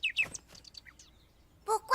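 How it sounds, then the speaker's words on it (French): A small bird chirps in short, bright, high-pitched bursts, with quick calls at the start and two louder chirps near the end, clear and close in a quiet garden. "Salut, petit oiseau."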